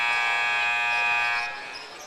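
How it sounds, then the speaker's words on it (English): A high school basketball game's arena buzzer sounds as a timeout ends, one loud sustained electronic tone that holds for about a second and a half and then cuts off. "you hear the buzzer coming out of a Pirate timeout this time"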